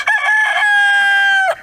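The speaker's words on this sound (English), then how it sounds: "the rooster crow for quail is much more pleasant and soft." A male quail rooster crows once, loud and close, giving one sustained shrill call that lasts more than a second and ends abruptly, with no other sound around it.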